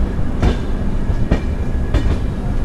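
Amravati Express passenger train running on its route from Kolkata towards Goa, heard from on board as a loud continuous rumble with rhythmic clickety-clack wheel beats over the rail joints, no voices.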